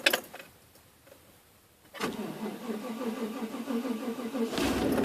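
A 1995 farm truck with a 5.7L V8 cranks briefly, then catches and settles into a steady, close, loud idle.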